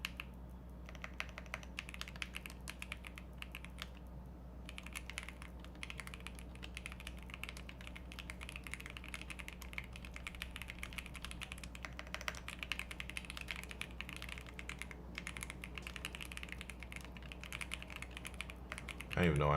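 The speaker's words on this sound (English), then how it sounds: "I'm typing the whole thing." Continuous rapid typing on a computer keyboard during a live React and C++ coding session, fast irregular key clicks running nonstop over a low steady hum, fairly close and moderately quiet.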